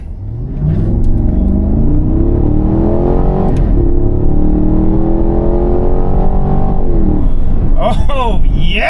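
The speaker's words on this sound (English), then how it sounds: "Naturally aspirated V8 power." A 2025 Cadillac Escalade's naturally aspirated V8 revs hard under acceleration, a loud, steady climbing engine note from inside the cabin, with an excited voice breaking in near the end.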